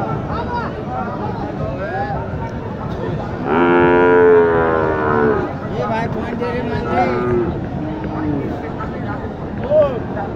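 Crossbred cattle at a busy livestock market, with one loud, drawn-out moo near the middle rising over a constant background of crowd chatter and nearby voices.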